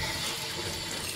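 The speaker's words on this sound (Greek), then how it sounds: "θέλει νερό. Να ρίξουμε νερό." A tap runs water steadily while a freshly caught sea bass is gutted and cleaned, a close continuous splashing rush without speech.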